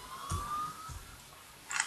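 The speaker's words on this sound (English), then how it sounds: "Why was there a police car noise?" A faint police siren from The Sims 3 video game wails briefly in the background, thin and electronic, with a couple of soft thumps around it.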